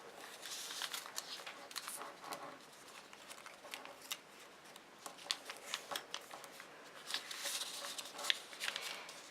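Paper creased and folded by hand for an origami teddy bear, with soft crisp rustles and light taps in short bursts, close and quiet.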